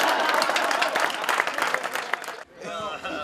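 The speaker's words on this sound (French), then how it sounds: "C'est l'ovation qu'il mérite." Audience applause swells into an ovation for a world champion at an urban culture event, dense sustained clapping with crowd noise that dips briefly before resuming.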